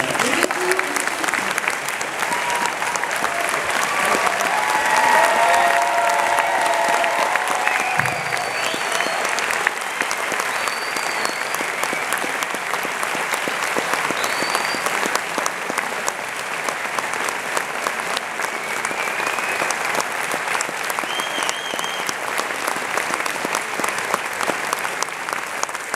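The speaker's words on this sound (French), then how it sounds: "que diriez-vous si on leur demandait de se lever et qu'on les applaudissait tous comme des artisans du salle?" A large festival audience at the opening of the 2016 Annecy Animation Festival applauds the film's crew, a dense, sustained wave of clapping that fills the hall steadily from start to finish.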